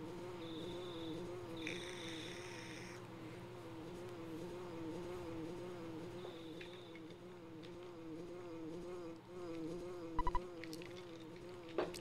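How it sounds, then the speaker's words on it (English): Steady wavering buzz of a bee flying around in the EarthBound video game, a continuous droning hum with undulating pitch that circles on and on, joined by brief electronic game tones and a few faint clicks near the end. "Do you hear a buzzing that sounds like a bee flying around?"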